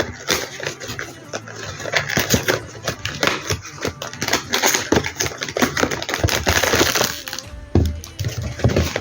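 Popmart blind box package being opened by hand: dense crinkling, tearing and sharp cracking of packaging close up, with irregular snaps and rustles throughout and a brief pause near the end.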